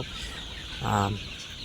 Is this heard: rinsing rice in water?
no